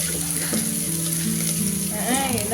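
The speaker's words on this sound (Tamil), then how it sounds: "இப்போ வெங்காயம் நல்லா வதங்கி வரட்டும்" Onions with green and red chillies and curry leaves sauté in a pan, giving a steady close sizzle under background music, with no speech.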